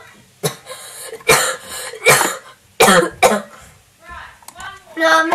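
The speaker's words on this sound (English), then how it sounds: "No, I'm making myself cough." Several harsh coughs burst out in a row, close and loud, with a throat-clearing sound and breathing between them, and a voice comes in near the end.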